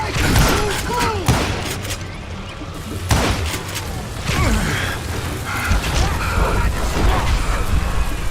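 Gunshots in the Western shooter game Call of Juarez Gunslinger, a few sharp, loud reports spaced irregularly among clanking mechanical sounds and other game effects.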